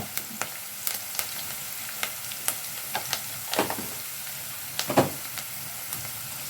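Green chilies and curry leaves sizzle steadily in hot oil in a pan, with a run of sharp spatula scrapes and clicks as they are stirred, close and fairly loud, no voices.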